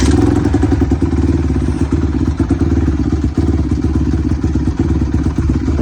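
A Honda CRF150R dirt bike engine idles roughly and boggy from a carburettor problem, loud and close, a steady uneven thumping putter with clattery mechanical noise throughout.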